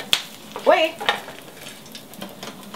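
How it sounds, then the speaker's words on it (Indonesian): Galangal and kaffir lime leaves stir-fried in a pan, a spatula scraping and stirring with a few clinks over a soft sizzle, close and moderately loud. "Jadi saya mau masukin langsung lengkuas dan daun jeruknya."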